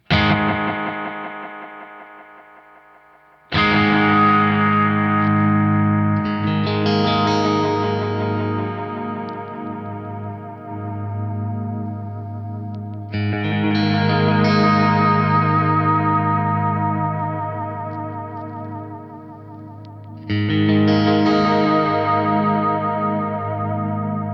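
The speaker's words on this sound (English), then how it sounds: "Now let's do the wow and the flutter." Tape-style echo from a Boss RE-202 pedal with wow and flutter turned up, loud sustained chords repeating and wobbling in pitch as echoes trail off, with fresh strums at regular intervals.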